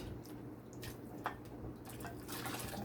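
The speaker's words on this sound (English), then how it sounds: "I'm adding a little bit more water" Water poured into a cooking dish while rinsing out leftover vegetable broth for Jamaican fish tea: faint, soft splashing and dripping in brief bursts over a low, steady background hum.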